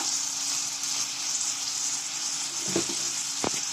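Tomatoes sautéing in a pan for Kumbakonam kadappa, a steady close sizzle with a couple of brief stirring scrapes near the end.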